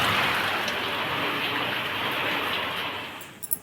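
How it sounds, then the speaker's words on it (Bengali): Heavy rain falls steadily in a dense, loud hiss that holds for several seconds and then eases slightly, with a couple of sharper drip knocks near the end. "জোরে নেমেছে বৃষ্টি"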